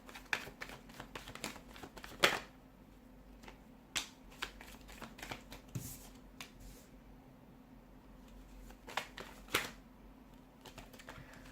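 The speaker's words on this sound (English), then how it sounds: "give the cards a shuffle" Quiet, close shuffling of tarot cards with soft riffling rustles and occasional sharp snaps, irregular and unhurried, with no talking.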